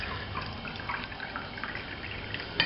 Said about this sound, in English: I'll pour a bit of that off separately.